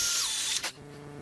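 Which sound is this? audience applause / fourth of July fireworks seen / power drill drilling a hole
power drill drilling a hole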